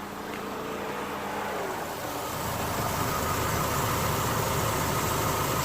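A Mitsubishi Lancer engine idles steadily after an exhaust leak repair, a continuous low rumble that grows slightly louder partway through and holds even to the end, with no talking.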